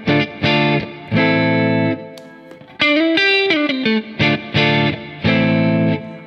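Distorted electric guitar, a Jazzmaster, plays chunky chords and a short bent lead phrase, loud and saturated, with brief pauses between strums.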